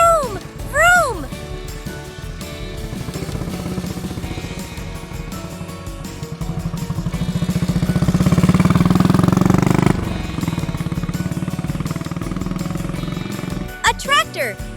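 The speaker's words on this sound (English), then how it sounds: "This is a motorbike. Hold on tight. Motorbike sound." Motorbike engine revving up, rising to a loud sustained roar mid-clip and dropping back, with a child-friendly voice and cartoonish whistle-like sound effects around it.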